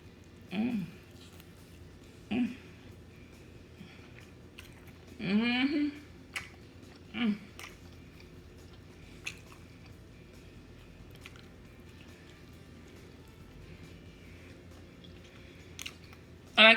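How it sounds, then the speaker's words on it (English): Quiet, intermittent chewing of leftover Pizza Hut stuffed crust pizza, greasy and still warm, with a few soft squishy bites and smacks separated by long pauses, heard up close. "Let's eat this."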